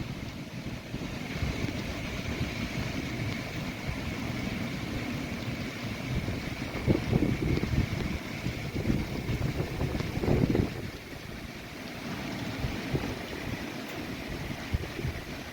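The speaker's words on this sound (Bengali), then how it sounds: "আজকে বেশিরভাগ বাতাস দিচ্ছে, কিন্তু বৃষ্টি সেরকম নেই" Strong wind under dark monsoon clouds over a dry pond field in Purulia, a steady rushing roar with gusty buffeting against the microphone that swells and fades, no voices.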